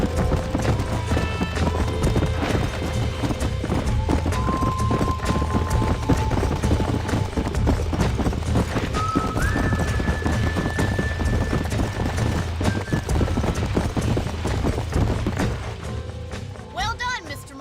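Horses gallop in Red Dead Redemption, a dense, loud, steady clip-clop of hooves running for the whole passage over a tonal music bed, with characters talking now and then.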